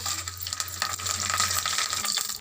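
Dried red chillies and curry leaves hit hot oil already holding chana dal, cumin and mustard seeds for a tempering, a dense steady crackling sizzle up close, loud and without speech.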